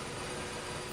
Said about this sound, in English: And electric boats like this.